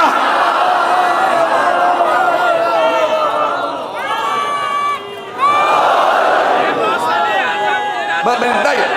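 A large crowd at a majlis chants religious slogans in loud unison, many voices rising and falling together in drawn-out calls, with a brief dip before the chant surges again.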